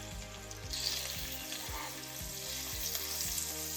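Thin slices of beef sizzle and fry steadily in a hot pan for Asian beef and broccoli, a dense continuous crackle with occasional louder spits, close and alone with no talking.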